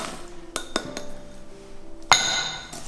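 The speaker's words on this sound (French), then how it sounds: "Je vais y ajouter les noix de pécan hachées grossièrement," Coarsely chopped pecans and hazelnuts tipped into chocolate brownie batter in a bowl give a few sharp, close clinks and taps spaced over a few seconds, ending in a brighter clatter.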